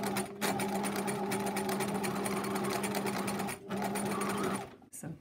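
A sewing machine zigzag-stitches a machine buttonhole with a steady, fast, close mechanical rattle that runs almost without a break, pausing briefly twice.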